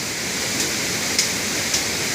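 A swollen stream rushes through Sahyadri forest near a tall waterfall, a steady broadband roar of flowing water heard close, with a few faint clicks on top.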